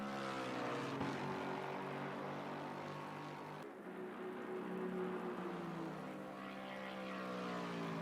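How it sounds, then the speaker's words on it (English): Lexus V8 race car in a racing video game at Spa-Francorchamps, a steady loud engine drone with harmonic tones holding near-constant pitch, shifting slightly midway, with no talking. "Just hear the magnificent sound of this Lexus V8. It roars around the Spa-Francorchamps circuit."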